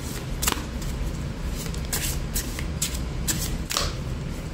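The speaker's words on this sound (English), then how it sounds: "Okay, let's give this a shuffle and see which one will be revealed for us" A new oracle card deck is shuffled by hand, with repeated crisp riffling bursts and soft card slaps close up in a quiet room.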